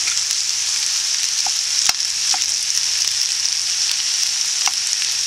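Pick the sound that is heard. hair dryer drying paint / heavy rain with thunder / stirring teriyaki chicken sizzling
stirring teriyaki chicken sizzling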